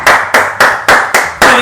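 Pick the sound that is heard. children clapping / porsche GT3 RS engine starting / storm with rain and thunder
children clapping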